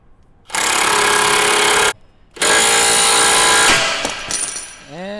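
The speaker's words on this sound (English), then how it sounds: "And that's how you break the ball joint loose." Pneumatic impact tool hammering a ball joint spreader on a Mercedes W204 C300 suspension: two loud, sustained buzzing rattles separated by a short pause, then a few lighter clanks as the joint breaks loose.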